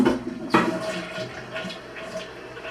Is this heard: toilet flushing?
yes